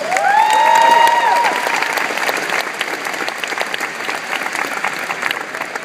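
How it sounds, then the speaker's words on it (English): Loud sustained applause from a large crowd, strongest at first then settling into steady clapping, with a brief high feedback whine near the start. "Give them all a big round of applause."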